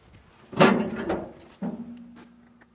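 The metal door of a wood-fired boiler firebox is opened with a loud clank, then a second knock follows, leaving a low steady hum beneath.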